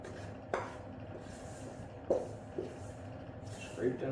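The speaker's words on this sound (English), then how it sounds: "Scrape down the sides with your spoon." A spoon scrapes and clacks against a bowl while mixing bread dough ingredients, with a few sharper knocks among softer rubbing sounds and a person talking throughout.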